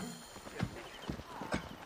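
Horse hooves clip-clop in Assassin's Creed Origins, three or four distinct hoof strikes ringing out in a short, uneven rhythm over faint background game ambience.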